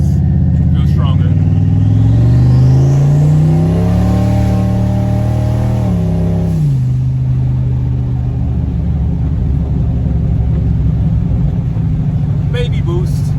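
A turbocharged SN95 Ford Mustang accelerating under boost, a loud close engine drone rising in pitch through a gear, then dropping and settling into a steady cruise rumble.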